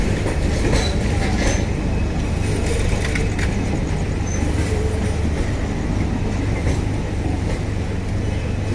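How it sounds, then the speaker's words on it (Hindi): A goods train overtakes the Garib Rath Express on an Indian railway, its loud, continuous rumble and wheel clatter close by, with no speech. "गुड्स ट्रेन भी इसे ओवरटेक कर रही है।"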